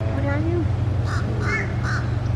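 A bird near a nest site gives a few harsh, crow-like caws spaced about half a second apart, moderately close, over a continuous low outdoor rumble while a person speaks.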